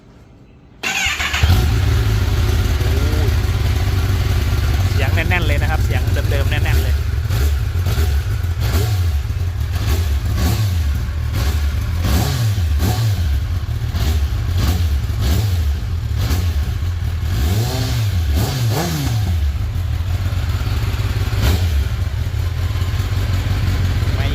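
A 2019 Kawasaki ZX10R sport bike on its stock exhaust fires up with a sudden start, then idles loudly and steadily, broken by several sharp throttle blips that rise and fall throughout.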